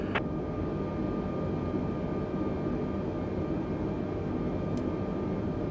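Simulated airliner engines drone steadily on an evening arrival into LaGuardia in Microsoft Flight Simulator 2020, a constant cabin-level hum with a few brief, faint high clicks scattered over it.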